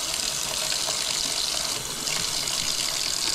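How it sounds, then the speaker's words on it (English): Tap water runs steadily into a sink to rinse freshly cut catfish fillets, a continuous close hissing gush with no pauses. "Now what I like to do with these is rinse them off. Cold water. I'm just going to put hot water."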